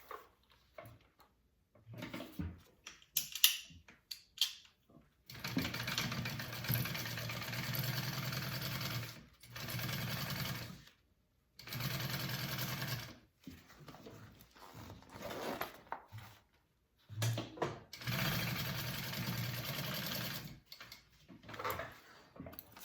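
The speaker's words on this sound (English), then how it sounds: "now I'm going to sew that down at a 1/4 inch seam allowance" A sewing machine stitches a quarter-inch seam on a fabric pouch, running in several steady whirring bursts of a few seconds each, separated by brief pauses and small handling noises, with no talk.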